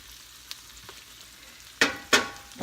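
Spinach drops into a hot pot for a shrimp scampi pasta sauce, giving two sharp, close sizzles after a quiet stretch of faint kitchen sounds.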